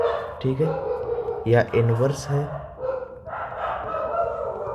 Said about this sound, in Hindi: कुत्तों को बैकग्राउंड में जो आवाज़ आ रही है